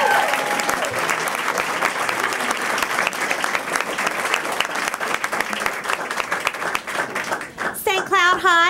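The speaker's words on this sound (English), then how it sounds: "I think this one's going to get a lot of applause." Steady, dense applause from a school board meeting audience in the Osceola School District, greeting Osceola High as its name is read; the clapping runs continuously and loud, with a voice cutting in near the end.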